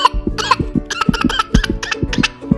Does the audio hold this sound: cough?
yes